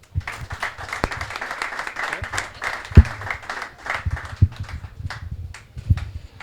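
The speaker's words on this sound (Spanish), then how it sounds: "Le damos un aplauso para empezar" Scattered, uneven applause from a modest audience at a book presentation at the Murcia book fair, individual claps distinct with occasional sharper near claps, a thinner crowd than a hall ovation.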